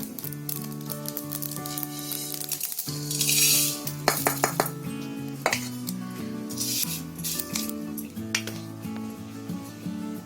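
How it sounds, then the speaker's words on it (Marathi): Mustard, fennel and cumin seeds crackle in a hot pan, a close sizzle with sharp pops and a few metallic utensil clinks over steady background music. "चांगले तडतडायला लागलेत."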